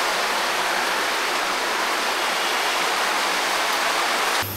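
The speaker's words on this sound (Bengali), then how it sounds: "পানি দিয়ে বারান্দা ভেসে গেছে।" Heavy monsoon rain pours down and floods a veranda, making a loud, dense, unbroken roar of falling water that stays steady throughout, with no voices.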